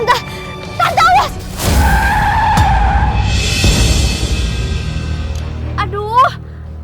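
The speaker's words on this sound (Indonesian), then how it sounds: "jangan ngerem mendadak dong" A car brakes hard and its tires skid in a long, loud screech over rumbling road noise, with a voice shouting out just before the skid and excited voices around it.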